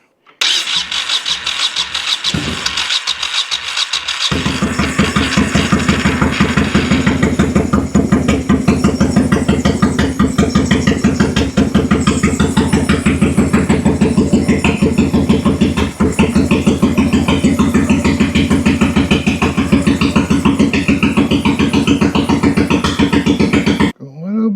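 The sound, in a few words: Honda VT1100 motorcycle engine starting and idling with choke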